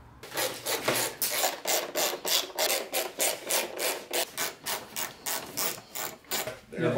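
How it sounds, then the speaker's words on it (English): Bolts are tightened on a 2017–2018 Ski-Doo REV Gen4 600R snowmobile with a hand ratchet, giving a close, loud, steady run of rhythmic rasping clicks, roughly three strokes per second. "So we just got to put in the six bolts again, and we're good to go."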